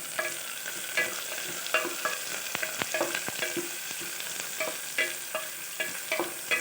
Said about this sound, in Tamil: இந்த வெங்காயம் கொஞ்சம் கொஞ்சமாக வதங்கினா போதும்